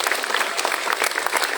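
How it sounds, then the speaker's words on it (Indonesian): A crowd at a school class meeting opening event gives brief, dense applause for a teacher, steady and fairly loud clapping with no voices over it. "Kasih tepuk tangan juga untuk Pak Iskandar."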